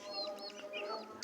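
Sick desi chicken chicks, about one to two months old, give soft clucks and thin high peeps in a brief, faint burst close by. No one talks.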